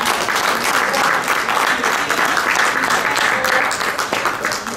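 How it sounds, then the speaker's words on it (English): Steady, dense applause from an audience at a Toastmasters awards celebration fills the whole stretch at a constant level without letting up. "let's give another round of applause for all of our winners so far"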